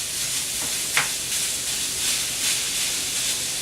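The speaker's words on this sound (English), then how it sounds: "you can hear this ground beef is sizzling nicely" Ground beef sizzles steadily in a hot skillet, a continuous bright frying hiss with a light scrape of a spoon breaking up the meat partway through, close and without talk.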